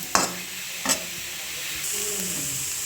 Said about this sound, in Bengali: দেখুন বন্ধুরা নেড়ে চেড়ে এরকম শুকনো করে নিতে হবে।